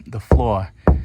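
Two hollow knocks on the fiberglass floor of a vintage Daysailer sailboat, each a dull resonant thud, with a ringing boom lingering between them.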